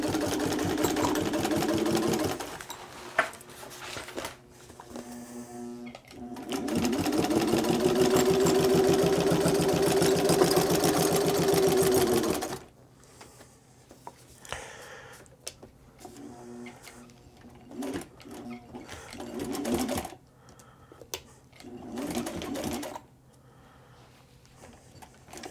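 A sewing machine stitches through several layers of boat canvas around a window, running in two long steady whirring bursts, then short stop-start runs with pauses between.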